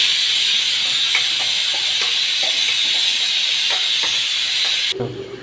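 Chopped onion and vadagam sizzle in hot oil with a loud, steady hiss and scattered small pops, cutting off abruptly near the end.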